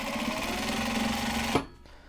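A sewing machine runs steadily, stitching a tack down seam that joins the interior and exterior of a Japanese fabric box-style project bag, then stops abruptly near the end, leaving quiet.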